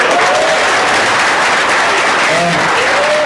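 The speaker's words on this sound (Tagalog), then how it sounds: "Salamat sa mga palakpak nyo." Audience applause at a large corporate gathering in a packed arena, a dense continuous wash of clapping from a big crowd that carries loudly through the whole moment.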